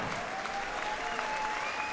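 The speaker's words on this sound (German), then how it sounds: "Applaus für beide Kämpfer" Audience applause for both fighters at a RESPECT fight event, steady dense clapping from a crowd at moderate distance, continuous throughout.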